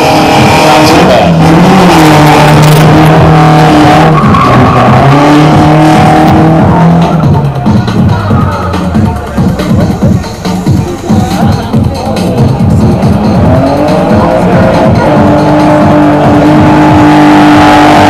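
Street drift car sliding through a corner, engine roaring and shifting pitch as the tires squeal through a long slide, with a flick and reinitiation, loud and close, with a voice speaking over part of it.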